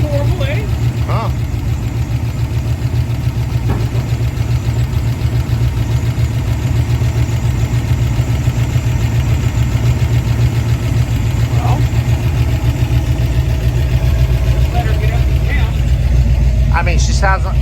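A 1962 Ford Falcon engine in need of a valve adjustment idles with a steady, rowdy low rumble throughout, with faint background voices now and then.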